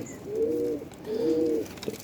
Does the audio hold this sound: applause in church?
no